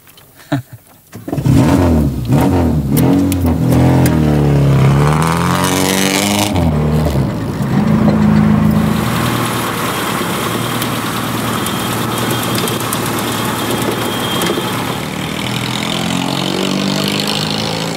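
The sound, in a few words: engine of a tuned competition-style car driving off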